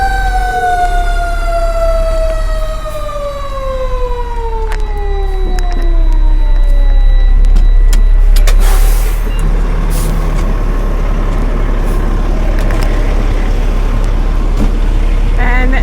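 A fire engine's wailing siren sweeps downward while its heavy engine rumbles close by, followed by air brake hisses and clanking as it pulls up to a traffic collision with fire.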